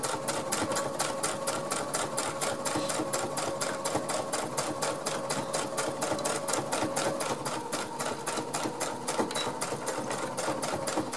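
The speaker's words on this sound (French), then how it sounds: "Et je vais le coudre comme ça." A sewing machine runs continuously, stitching a pouch for foraging and wild harvests, with a loud, even, rapid mechanical rhythm and a steady motor hum throughout and no talking.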